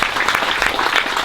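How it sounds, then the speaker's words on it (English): A dedication ceremony audience gives a round of applause for Jim Nagareda, a former executive director, a loud, dense burst of clapping filling the whole moment. "And another round of applause for Jim Nagareda"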